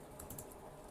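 Soft, quick keystrokes on a computer keyboard as text is entered in Figma, a brief run of light taps heard faintly and close, with no talking.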